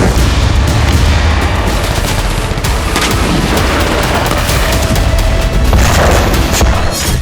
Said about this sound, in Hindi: इजराइल के फाइटर जेट बारूद बरसा रहे हैं